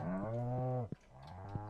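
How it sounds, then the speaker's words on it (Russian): Cows moo in the farming video game Stardew Valley: a loud, sustained low moo, a brief sharp click, then a second moo, all close with no talking. "12 коров."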